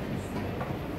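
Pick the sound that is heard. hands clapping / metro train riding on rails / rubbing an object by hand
metro train riding on rails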